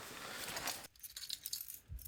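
A set of everyday carry keys with a small torch and a mini multi-tool attached gives a few brief, light metallic clinks and jingles up close after a short rustle, with no talk.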